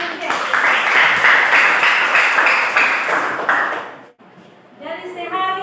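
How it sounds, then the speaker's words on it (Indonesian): Students in a junior high classroom clap for a classmate, a few seconds of lively group clapping that fades out, followed by a voice speaking. "Oke, tepuk tangan untuk Aditya."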